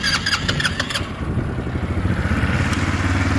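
A 200cc four-stroke sporty ATV engine starts with a brief starter whine and clatter, then settles into a steady, close, fairly loud idle.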